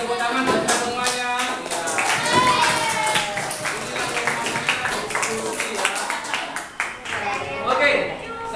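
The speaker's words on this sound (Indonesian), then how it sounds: "Sekarang kita tepuk tangan buat kita semuanya." A group in an Indonesian classroom teaching session claps hands together in a brisk, rhythmic pattern of sharp claps, with voices talking over it throughout.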